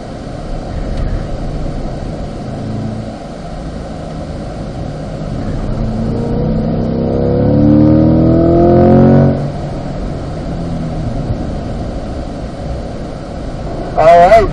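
Race car engine at Spring Mountain racing circuit during a performance driving school session, a steady drone that swells as the revs climb and then drops back as it shifts down, with an instructor speaking over it.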